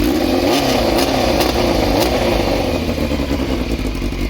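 A Yamaha FZR600 motorcycle engine running close by, a loud, rough idle with uneven throbbing pulses and occasional rises in revs.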